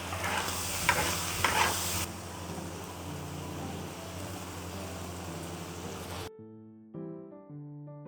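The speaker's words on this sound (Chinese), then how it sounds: "把这个鸭肝炒成变色的时候" Duck liver and offal stir-fried in a wok for a sour and spicy dish, continuous sizzling with scraping stirs and a few sharp clatters, ending abruptly before a short stretch of quiet music.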